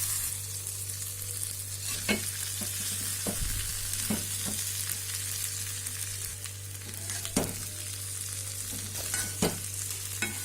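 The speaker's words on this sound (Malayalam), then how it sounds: "ഇനി നമുക്ക് ഫ്രൈ ചെയ്ത് വെച്ചിരിക്കുന്ന ചിക്കൻ നമുക്ക് ഇതിലേക്ക് ആഡ് ചെയ്ത് കൊടുക്കാം" Chicken 65 pieces, already fried, tumble into a hot pan and are stirred, giving a steady loud sizzle with scraping and clatter now and then, and no voices.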